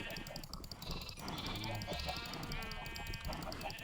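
Sheep in a Minecraft sheep pen bleat repeatedly in short, overlapping calls over a busy game background.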